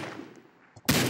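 A pistol fires once in a Roblox video game, a sharp sudden synthetic crack near the end after a quiet moment.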